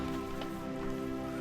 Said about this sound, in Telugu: ఇప్పుడు దాకా బాగానే ఉంది కానీ ఇప్పుడు వర్షం పెరిగిపోతుంది.